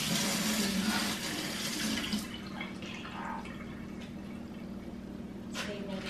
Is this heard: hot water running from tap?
yes